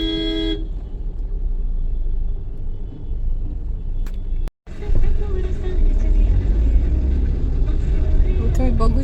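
Cars honk in a heavy traffic jam on a road: a loud horn toot opens, then engines rumble steadily, with another short horn near the end and a person talking through it.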